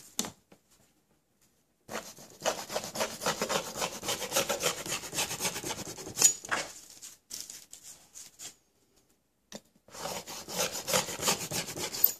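A hand saw cuts through plastic sheet with a rapid back-and-forth rasp, in two long bursts separated by a short pause and then a final burst, close and fairly loud.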